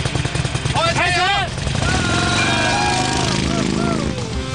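A motorcycle engine revs under throttle as a young rider practices with a riding club, its low steady drone running throughout beneath a loud voice calling out coaching over it.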